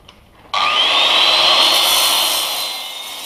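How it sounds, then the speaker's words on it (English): A plasma cutter slices through metal pieces, starting abruptly with a loud, steady hissing roar that holds for a few seconds and slowly fades a little. "I've finished cleaning up the metal bits and pieces that I cut with the plasma cutter"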